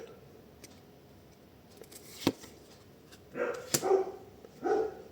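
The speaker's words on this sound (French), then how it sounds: "je pense que vous entendez mes chiens" Several dogs barking indoors in short bursts at a moderate distance, in irregular clusters over light background handling noise.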